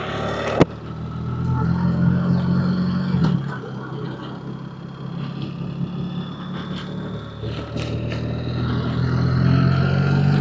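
A BMW R 1300 GS Adventure motorcycle with its engine running sets off, a steady low engine drone that builds slightly toward the end after a sharp click near the start.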